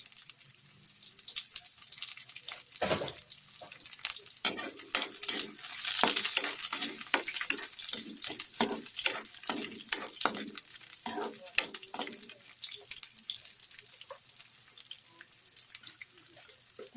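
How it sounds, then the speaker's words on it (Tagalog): Garlic and onion sautéing in a pan for a mung bean stew, a soft crackling sizzle broken by a run of stirring scrapes and taps, fairly faint and close, with no talk over it. "Pag nagigisa ako is inuuna ko ang garlic"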